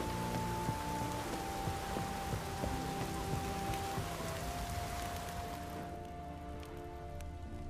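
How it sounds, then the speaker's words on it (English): Heavy rain pours in The Witcher 3 video game, a dense, continuous hiss of drops on surfaces that holds steady and then thins slightly near the end, with no voices. "Raining fucking buckets."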